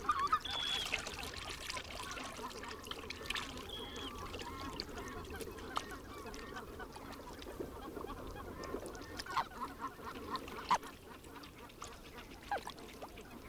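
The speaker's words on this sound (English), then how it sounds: "White-fronted geese paddle to expose the fleshy roots of sedges and cotton grass." A flock of white-fronted geese murmurs and honks softly at a distance, with scattered splashes and paddling in water as they feed on sedge and cotton grass roots.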